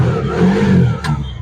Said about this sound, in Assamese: গাড়ী ষ্টাৰ্ট হৈ গ'ল। চাউণ্ডটো শুনিছে নিশ্চয়।